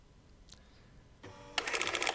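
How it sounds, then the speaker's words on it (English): A metal inspection booth shutter closes in the video game Papers, Please: a soft click, then a dense rattling clatter that swells and stays loud to the end, with no voices. "if you close the shutter on him"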